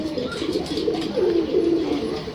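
Pigeons at a pigeon house coo continuously in soft, rolling murmurs, several birds overlapping close by, with a faint indistinct voice underneath.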